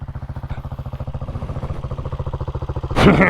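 A Hawk 250 DLX EFI motorcycle engine idling close by with a steady, rapid chugging pulse, ending in a sudden louder burst of noise.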